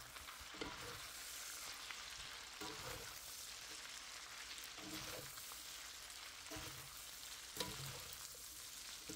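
Pasta, bacon and garlic sizzle and fry in a pan over low heat, a soft, steady crackle with periodic stirring scrapes, quiet and close.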